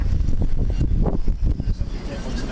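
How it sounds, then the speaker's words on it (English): Gusty wind buffets the microphone at a waterfront, a loud steady low roar with rumbling bursts for a few seconds, with a voice speaking over it. "Well, it sure is windy out here."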